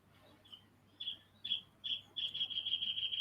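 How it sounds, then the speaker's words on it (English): A bird calls outdoors in a series of short, high chirps that start sparse and quiet, then speed into a rapid run of repeated notes, with no voices over it. "Did you hear that bird?"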